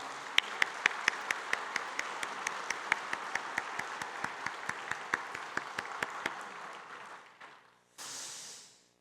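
A church congregation applauds during a Sunday service with steady clapping that slowly thins out, then a brief burst of broadband noise near the end.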